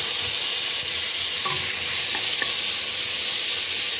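Onions and tomatoes sauté in a hot pan, giving a steady, continuous sizzle with a few faint stirring scrapes and clinks, close by and with no voices.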